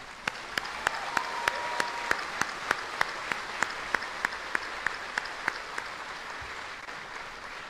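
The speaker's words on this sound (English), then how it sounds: "Please join me in a round of applause for the Theobald family." Audience applause at a Fort Jackson military graduation ceremony on an outdoor field, a steady wash of clapping from a distant crowd with regular sharp clicks cutting through, continuing without pause.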